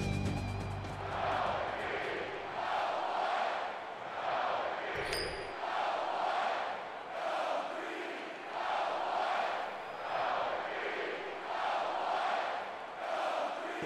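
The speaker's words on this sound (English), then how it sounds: "you can feel the thunder in the crowd as they await the start of this game" Stadium crowd at a college football game, Indiana at Michigan State, roaring in rolling, pulsing waves before kickoff, loud and continuous throughout with a brief clank partway through.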